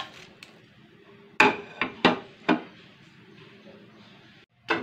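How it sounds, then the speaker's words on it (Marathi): Whole spices for homemade sambar masala dry-roasted on a tava, heard as a handful of sharp, close metallic knocks and scrapes, spaced irregularly, with quiet gaps between them. "आता हे सर्व मसाले जे आहेत ते थोडेसे गरम करून घेऊ आपण तव्यामध्ये।"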